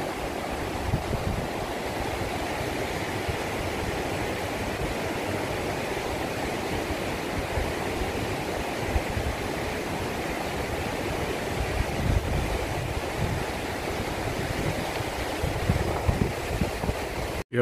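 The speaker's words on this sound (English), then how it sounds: "the river is coming back to normal." A river still swollen after flooding in Trinity Ville, St Thomas, rushing in a steady, loud, unbroken roar with no talk.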